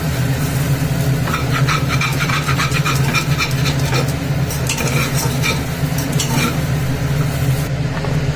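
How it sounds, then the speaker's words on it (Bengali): Broken wheat (dalia) being stirred in a pan with soybean pieces, a steady scraping and sizzling texture running continuously at close range with no talking. "একটু নেড়ে নেবো ভালো করে দলিয়াটাকে"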